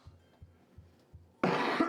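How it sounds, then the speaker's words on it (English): A single sudden, loud, harsh cough-like burst from a person at a tabletop role-playing game session, following a few faint, evenly spaced low thumps. "I thought you were actually coughing that"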